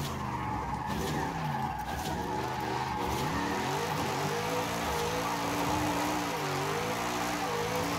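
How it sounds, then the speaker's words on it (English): A rear-wheel-drive car drifts in Forza Horizon 5, its tyres squealing continuously under a revving, shifting engine, loud and sustained with no talking. "There's something about drifting rear-wheel drive that's just, you can't beat."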